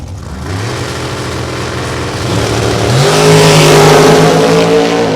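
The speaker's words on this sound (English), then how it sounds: "Skillman side will be Brandon Martinson out of Ladora, Iowa in his Cameron dragster" Two dragsters, one a Cameron dragster, launch side by side down the strip, loud engines rising in pitch as they accelerate away, growing louder and rougher as they pull down the track.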